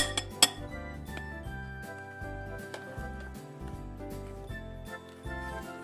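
Pempek dough ingredients stirred with rice flour in a bowl, with a spoon clinking and scraping against it in repeated rhythmic strokes, fairly quiet and close.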